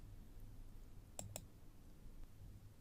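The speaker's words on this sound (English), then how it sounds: "You can customize this plot by clicking on the Details button." A computer mouse button clicks twice in quick succession, small and close, over a faint steady background hum.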